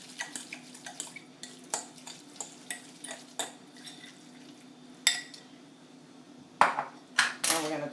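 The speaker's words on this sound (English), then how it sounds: "stir that really good" A spoon stirs tuna salad with egg and mayonnaise in a bowl, giving a string of sharp clinks and scrapes against the dish, quiet and close, with louder knocks near the end.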